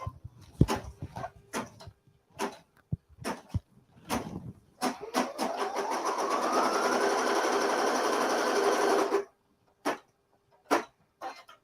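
A sewing machine stitches fabric for a quilting project, starting with a few short clicks and bursts, then running in one steady, loud continuous stitching run of several seconds before stopping, followed by a few more sharp taps.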